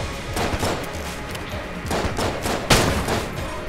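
A fire-spraying gun blazing in Enter the Gungeon, with dense, continuous rushing bursts of shots and a sharper crack near the end, all over busy game ambience.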